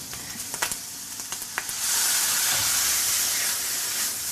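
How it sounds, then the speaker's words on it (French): White wine poured into a hot pan of squid, a few sharp clinks and scrapes followed by a sudden loud, steady hissing sizzle that rushes up and holds. "Là on va déglacer avec, Le vin blanc."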